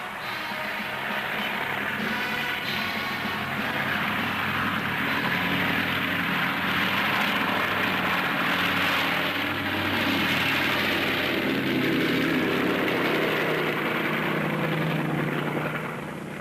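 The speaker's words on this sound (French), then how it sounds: "La lourde machine met plein gaz et s'élance dans un décollage" Engines of a giant seaplane roar at full throttle during takeoff, a loud, continuous droning drone that holds steady and swells slightly over the span.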